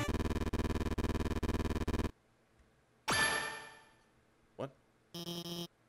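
Short ringing phone-like chime from the Undertale video game after the yellow button is pressed: a bright tonal burst that rings out and decays, followed by a brief blip and a short buzzing burst, with a steady electronic buzzing pattern before it.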